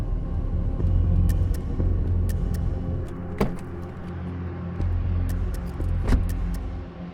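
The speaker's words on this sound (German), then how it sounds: "Und wir fahren jetzt auf die Bereitstellungsfläche und da treffen wir uns mit allen operativen Kollegen." An airport operations vehicle at Frankfurt Airport rolls onto a staging area. It gives a steady close engine rumble from inside the cab, with a few short clicks and rattles and no talk.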